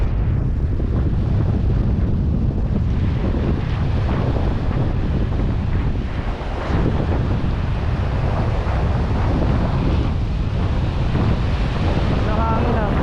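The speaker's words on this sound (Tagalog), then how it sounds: "Lakas ng hangin, grabe." Strong wind buffets the microphone at sea during early-morning fishing, a loud continuous roar with surf and water noise beneath it, with no speech.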